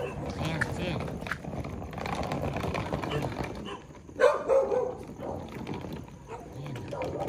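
Dogs barking in a busy airport setting, a few sharp yips standing out near the middle against steady crowd chatter and background noise.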